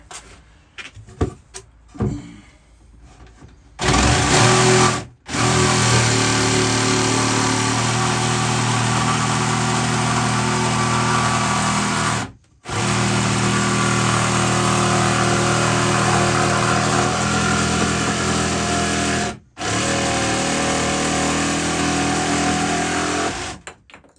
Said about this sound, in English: then I can grind it off with the angle grinder